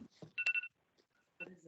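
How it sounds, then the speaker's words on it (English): A phone alarm goes off during a conference planning group meeting, a brief bright electronic beeping tone rising between stretches of nearby talk. "Somebody's phone is going off."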